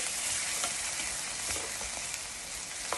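Asafoetida is stirred into a pan of cooking yellow dal, giving a steady frying hiss with soft scraping stirs and an occasional pop, close and continuous.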